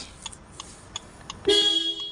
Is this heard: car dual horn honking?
yes